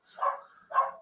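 Two short dog barks about half a second apart, fairly close, with quiet in between.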